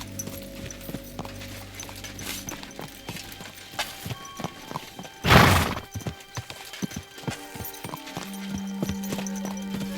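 Horse hooves clip-clopping at a steady walking rhythm while riding in Kingdom Come Deliverance II, with a loud burst of rushing noise midway and faint tack and gear sounds around the hoofbeats.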